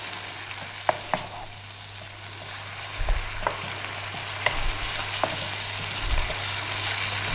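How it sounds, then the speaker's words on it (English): Beef and ginger stir-frying in a pan with a little sauce, for Thai pad khing. A continuous, moderately quiet sizzle with intermittent sharp clicks and scrapes from the stirring utensil, and no speech. "Stir fry a little bit longer."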